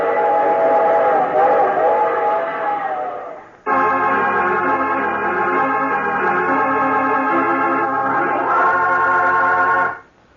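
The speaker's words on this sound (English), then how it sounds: "I take this same train every week at this same time." Train sound effect in an old-time radio drama: a rumbling moving train with a loud, sustained multi-tone whistle that swells, holds for several seconds, then stops abruptly.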